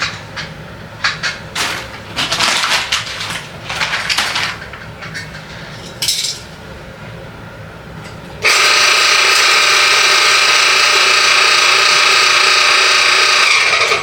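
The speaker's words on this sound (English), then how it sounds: "those gears are grinding a little" Coffee grinder being dialed in for AeroPress, its gears grinding with scattered rough crunching and rattling bursts, then a loud steady whirring grind running continuously to the end.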